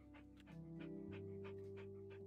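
Pet dog panting in a house, quick rhythmic breathy puffs repeating about every third of a second, close by over a steady low tonal hum.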